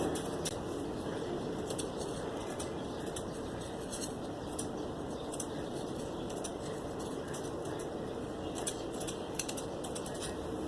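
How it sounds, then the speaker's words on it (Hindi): Scissors snip through fabric as a short designer frock is cut out, a steady run of crisp cutting strokes over a constant background hiss, with no talking. "ये देखें, इस तरीके से मैंने एक हिस्सा काट लिया है।"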